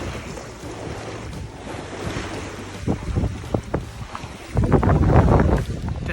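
A sailboat moves under sail with steady wind buffeting the microphone and water sloshing against the hull, and a few sharp splashes and knocks swell into a louder wash of waves near the end.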